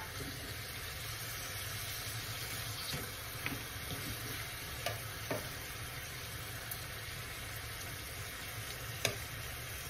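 Pork sizzling steadily in a pan as it renders its fat for Bicol express, a continuous even fry with a few faint clicks and taps of utensils, no talking.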